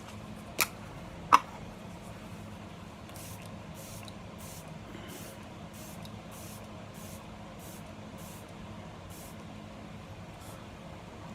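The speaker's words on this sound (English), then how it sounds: "Let me use some of this Tarte Stay Spray." Two sharp clicks, then a quick series of about ten short, soft hissing spray bursts of Tarte makeup setting spray from a pump bottle, evenly spaced in a quiet room.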